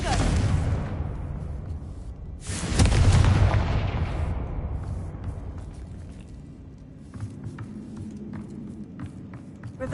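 A Confringo fire spell blast in the video game Hogwarts Legacy: a booming, rumbling burst that hits hard and then rolls away into a fading tail, with lighter footstep-like taps afterward.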